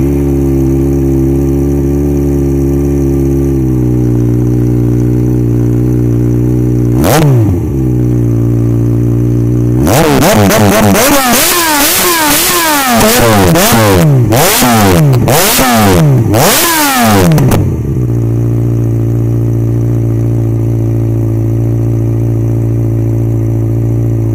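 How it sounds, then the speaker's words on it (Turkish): A Yamaha XJ6 motorcycle idles with a low, steady rumble, then its exhaust revs up hard in a series of sharp, loud blips before settling back to idle. "egzoz sesini dinleyelim isterseniz"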